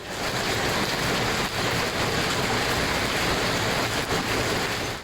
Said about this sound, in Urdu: اسلام آباد میں کالے بادلوں کی گھن گرج، تیز جھکڑ اور بارش کے ساتھ شدید ژالہ باری۔